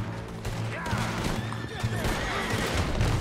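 A horse in Red Dead Redemption 2 whinnies loudly and close, a rising and falling neigh over clip-clopping hooves and a low rumble.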